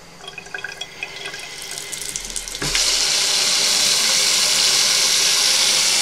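Cold tap water gushes into a sink: faint trickling and handling first, then a sudden loud, steady rush as the faucet opens fully, close by and without talk.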